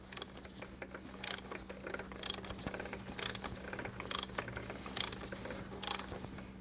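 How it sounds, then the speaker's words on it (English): A ratchet wrench torques an engine bolt back down with fast, faint clicking throughout and a few louder, regularly spaced bursts of ratcheting. "The next thing is torquing it back down."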